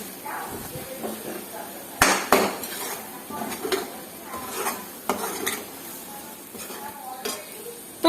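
Spoon scraping and stirring goat intestine (mutton botti) in a pot once the lid is off, with sharp metallic clanks near 2 seconds and later, over soft sizzling with some voice in the background.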